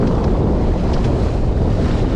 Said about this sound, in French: J'espère que le vent ne couvre pas trop ma voix